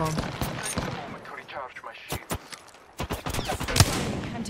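Gunfire in the battle royale game Apex Legends, with rapid bursts of shots and sharp single cracks mixed with other game effects and a player's voice talking over the fighting.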